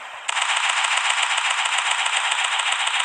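Sustained automatic machine gun fire rattles from the Local Warfare video game on the Rusty map, a loud, rapid, unbroken burst lasting about three seconds with no voices.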